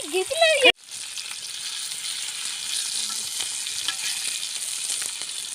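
Fish frying in hot oil, a loud, steady sizzle and crackle that starts abruptly after a short burst of talk and keeps going evenly, close and bright.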